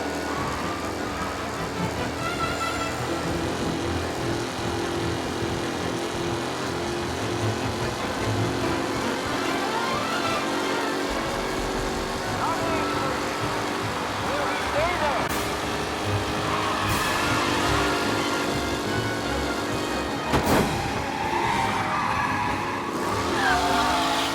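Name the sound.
race cars skidding in video game Mafia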